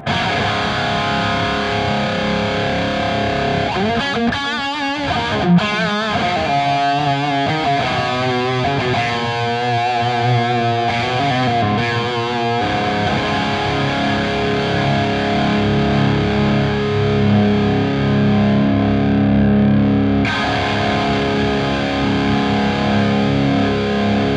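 An electric guitar through a Line 6 Helix with a Minotaur overdrive boost plays a run of sustained, gritty, high-gain notes and chords, loud and close, with amp hum lingering after the playing stops.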